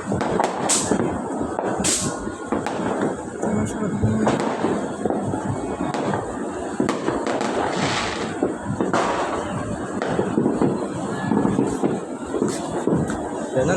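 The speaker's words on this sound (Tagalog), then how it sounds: "nagpaparamdam na yung mga paputok par" New Year fireworks and firecrackers go off over a smoky city in a dense stream of pops, crackles and thuds, some sharp and close, others distant, with the barrage continuing the whole time.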